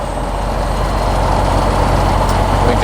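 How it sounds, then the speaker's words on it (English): A Tecnam light aircraft engine idles while warming up before taxi, a loud, steady, close drone that holds evenly throughout with no voices. "So the engine is warming up"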